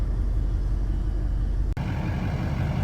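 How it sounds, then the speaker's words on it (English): Steady mid-low engine drone from a Duramax diesel pickup truck being driven after sitting for months, heard from inside the cab with a brief dip partway through, and no one speaks over it. "It's going to be the first time this truck is moved in a couple months."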